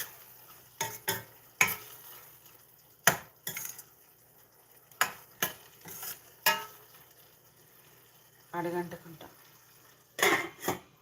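A spoon scrapes and clanks against a pan as tomato egg curry is stirred, producing irregular sharp knocks spread across the clip over a faint steady background hiss.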